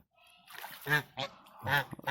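Farm geese in egg-laying season honk in three loud, nasal bursts close by, with brief quiet gaps between the calls.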